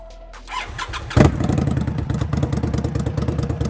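An Indian Scout cruiser motorcycle engine cranks briefly, then fires up into a loud, deep, lumpy idle that rumbles steadily and close by.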